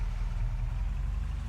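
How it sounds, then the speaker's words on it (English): A truck engine in a farming video game rumbles at a steady low idle, deep and continuous throughout with no distinct pops standing out. "It sounds like this truck might be backfiring a little bit."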